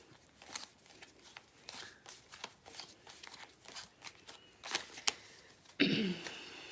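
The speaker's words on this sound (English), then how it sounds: "Now I'm going to go ahead and shuffle my Hebrew cards." Hebrew cards being shuffled by hand, a run of soft papery riffles and flicks in an irregular rhythm, close and fairly quiet, ending with a louder burst of shuffling.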